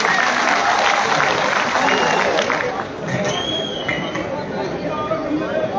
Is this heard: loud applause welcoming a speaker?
yes